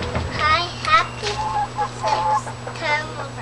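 Chickens on a Georgia homestead cluck and squawk in short, close bursts, with someone talking over them.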